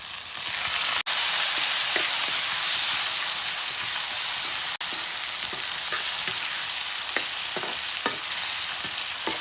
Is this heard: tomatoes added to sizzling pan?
yes